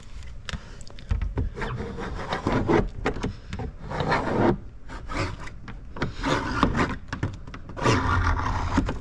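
A squeegee pushes window tint film flat against the rear window of a Toyota Prius, making a series of short rubbing and scraping strokes in irregular bursts, close up and fairly quiet.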